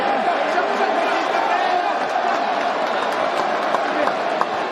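A dense UFC arena crowd cheers for Donald Trump in a steady, loud, unbroken wash of roaring and applause, with speech mixed in.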